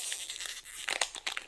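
The flimsy foil wrapper of a single Magic: The Gathering booster pack is torn open by hand, a close, quiet run of crinkling rips and crackles over about a second and a half.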